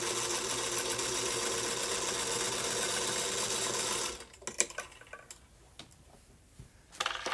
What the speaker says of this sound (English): So I'm going to sew down the left side first.